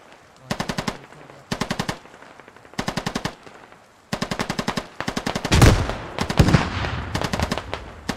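Automatic gunfire in the military shooter game SquadOps, several loud rapid bursts of machine-gun fire in quick succession, followed by a heavier blast and more bursts blending into echoing reports.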